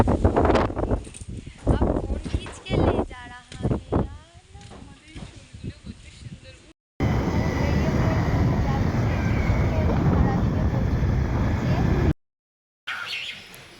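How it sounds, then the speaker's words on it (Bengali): Voices come first, then a loud, steady rush of storm wind roars for several seconds, cutting out briefly before resuming. "ভীষণ ঝড় হচ্ছে ঝড়ে আমরা ক্যালি করছি কি মজা"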